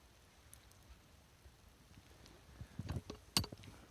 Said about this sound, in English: The beautiful rain dropping on our sword ferns.